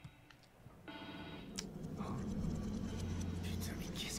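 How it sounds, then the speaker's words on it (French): A telephone rings in the horror video game The Evil Within 2, an old-style bell ring heard over low ambient game noise and rumble. "Coup de téléphone."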